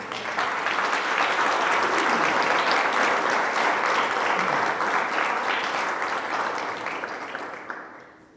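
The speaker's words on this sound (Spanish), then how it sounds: "Denle un aplauso" Sustained applause from a church congregation, a dense, steady roar of many hands clapping at once that holds strongly for several seconds before tapering off at the end.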